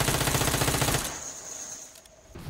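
Automatic rifle fire in the battle-royale video game PUBG, a loud rapid burst of shots for about a second, then a quieter tail and a faint final shot.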